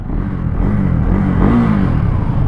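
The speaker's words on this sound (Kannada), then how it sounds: "ಇಂಜಿನ್ ಸೌಂಡ್ ಈ ಥರ ಕೇಳಿಸುತ್ತೆ" A 2024 Husqvarna Svartpilen 401 motorcycle engine rumbles steadily nearby, a low continuous drone that rises slightly in pitch midway.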